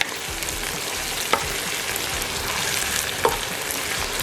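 Curry paste frying in a pot for a Durban-style chicken curry gives a steady, broadband sizzle with two brief stirring clicks, close and alone.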